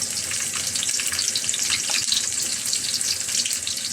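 Onions and garlic sautéing in a pan for squid adobo, a loud continuous close sizzle with faint stirring and no talk.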